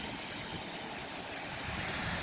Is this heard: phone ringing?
no